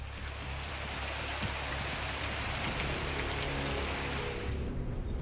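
Heavy monsoon rain pours down in a dense, steady hiss in Vapi, Gujarat, India, loud and close, with no other sounds standing out.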